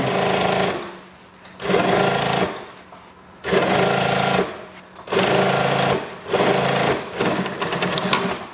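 A sewing machine stitching a trouser seam while taking in the waist and hips, running in four close, loud bursts of rapid mechanical whirring with short pauses between them.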